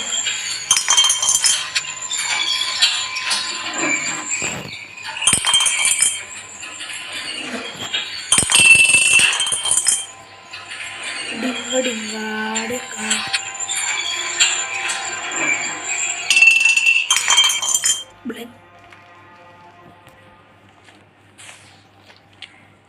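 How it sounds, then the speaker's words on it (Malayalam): In the Granny 3 horror video game, a slingshot breaks glass: bright, ringing glassy clinks and shattering bursts recur for most of the stretch before fading to a quieter tail. "Sling shot glass പൊട്ടിക്കുന്നു."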